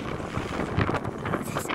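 Strong wind buffets the microphone on a roof throughout, a constant rumbling roar with gusty thumps and no voices.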